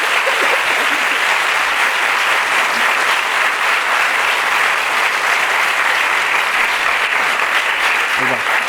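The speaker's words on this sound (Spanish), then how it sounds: "Gracias por el aplauso" Sustained, dense applause from a large audience at an event with author Christopher Paolini in Spain, steady and loud throughout with no breaks.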